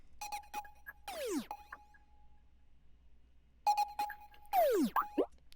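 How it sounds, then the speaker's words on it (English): Serum lead preset called Twizzy, from the Fragments pack by Prod Ghoul, plays two short phrases of sliding, pitch-bending synth notes with downward swoops, separated by a quiet gap, alone and moderately loud. "this lead out of Fragments by Prod Ghoul again. The lead's called Twizzy. It sounds like this."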